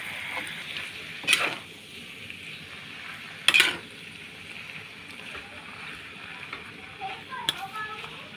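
Rice noodles stir-fried in a little oil for pad see ew, a low steady frying hiss with a few sharp metallic scrapes and clanks of a spatula against the pan, close by.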